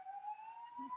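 A police car or ambulance siren wails steadily and loudly as it passes, its tone rising slightly over about a second, with no talking over it.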